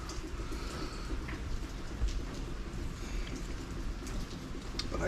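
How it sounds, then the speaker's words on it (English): Monsoon rain falls steadily in Rayong, Thailand, a dense, even hiss of drops on surfaces that stays constant at moderate loudness, with no voices. "But I think that's pretty much the end of the rain for now"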